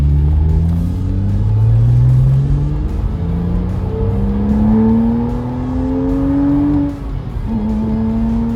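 A 2008 Porsche Boxster RS60 Spyder drives with the top down, its engine loud and close, revving up through repeated rising gear pulls with short dips between shifts.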